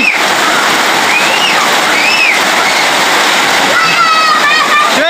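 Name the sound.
heavy rain falling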